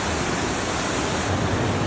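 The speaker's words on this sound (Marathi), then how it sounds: "या ठिकाणी उतार मिळाल्यामुळे प्रवाह खळखळ वाहत आहे या ठिकाणी प्रवाह अतिवेगवान झालेला आहे" The fast-flowing Aare river in Switzerland rushes down a slope, a loud, steady broadband roar of churning water heard close and unbroken, with no voices.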